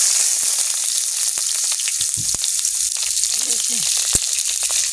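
Dry red chillies, panch phoron and onion frying in hot oil give a steady, close sizzle throughout, with a few sharp crackles and faint clinks of a utensil on the pan.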